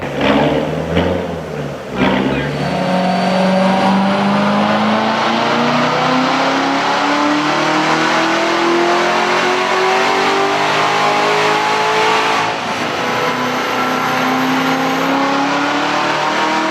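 A 1997 Talon TSI accelerates hard, engine note climbing steadily through the gears in a loud, continuous rising whine, briefly dipping near the start and again around twelve seconds.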